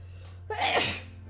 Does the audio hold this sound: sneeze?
yes